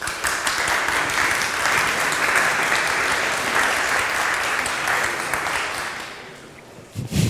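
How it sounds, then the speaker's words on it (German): A conference audience applauds a talk on Palantir and German police work. The clapping is steady, dense and sustained, filling the room at an even level before it fades near the end. "Ein Applaus bitte."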